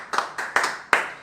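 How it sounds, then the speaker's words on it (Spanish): Four separate claps from an audience in a church gathering honouring Christopher, evenly spaced and fairly close, each a sharp burst fading quickly, with no talking over them. "Un aplauso para Christopher"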